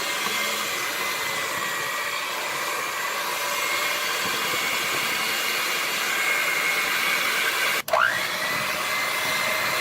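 An electric mixer creams butter and sugar for vanilla cupcakes, giving a steady, even whir that runs unbroken for nearly ten seconds before a brief dip and restart near the end.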